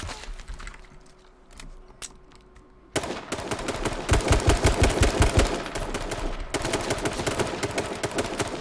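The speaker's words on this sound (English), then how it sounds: "Oh, who's shooting me?" Rapid automatic gunfire in a duos shooter video game crackles in loud bursts after a quieter opening, with scattered single shots before and sustained fire afterward, no talking.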